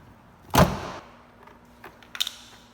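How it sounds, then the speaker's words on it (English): A plastic pry tool pops the rear door panel off a Honda Accord with one sharp, close snap and rattle, followed by faint clicks of clips releasing a moment later. "put one hand on the door panel and the other on the pry tool and pull out at the same time"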